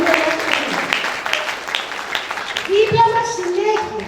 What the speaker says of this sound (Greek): Σάβα Χριστοδούλου και τον κύριο Καρίκη, ένα μεγάλο χειροκρότημα